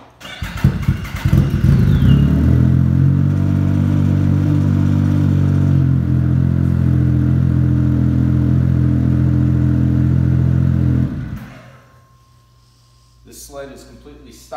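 A stock snowmobile, unmodified apart from an aftermarket exhaust can and running on its stock ECU, cranks and fires, then runs loud and steady for about nine seconds before cutting off, leaving near quiet with faint clatter.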